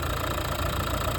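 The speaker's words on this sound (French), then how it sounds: "Un bruit moteur tout à fait rond." A car engine ticks over at idle, a smooth, even mid-pitched rumble heard up close for about a second before cutting off abruptly.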